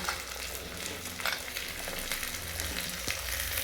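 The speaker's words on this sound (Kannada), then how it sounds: "ಎಣ್ಣೆ ಒಳಗೆ ಚಲೋದ್ನಾಗ ಫ್ರೈ ಆಗುತ್ತೆ ಇವೆಲ್ಲ" Potato, carrot and beans sizzle steadily in hot oil, a continuous close frying hiss with occasional soft crackles and pops, no voices.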